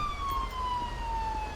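Police siren in the LSPDFR mod for GTA V, a steady wailing tone slowly sweeping down in pitch, loud and continuous over low road rumble, with no talking.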